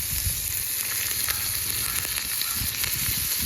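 Fish frying in a pan, a dense continuous sizzle with small crackles and pops, close and steady throughout with no speech.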